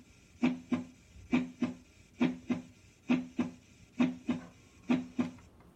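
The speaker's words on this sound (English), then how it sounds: "You're probably familiar with the lub-dub beat of the heart" Human heartbeat in a steady lub-dub rhythm, seven paired thumps roughly one per second, soft and close with nothing else heard.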